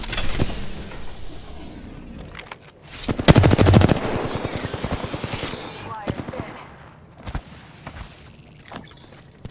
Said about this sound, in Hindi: बड़ा है, स्मूथ चल रही है गन